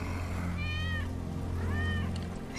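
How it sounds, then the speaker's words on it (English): Two drawn-out meows from a cat in the video game Final Fantasy VII Remake, heard close and clear with a short pause between them over a low background hum. "That's Wedge's cat."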